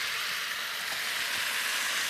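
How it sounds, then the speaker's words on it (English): Steady, close sizzling of food frying in a hot pan, a continuous bright crackle with no voices. "Hear that sizzle? That's a hot pan."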